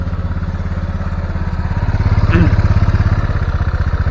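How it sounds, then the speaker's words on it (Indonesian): Honda Vario 150 scooter with worn piston rings and white exhaust smoke runs close by, a loud rapid pulsing putter that swells slightly as the engine picks up, with a brief voice partway through. "Nah, kontak on, kita hidupkan, kita lihat di knalpot ya."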